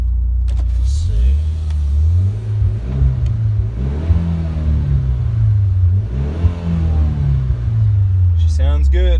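A 2014 Mitsubishi Lancer Evolution GSR engine idles and revs several times, a low rumbling growl that rises and falls in pitch, heard from inside or near the car.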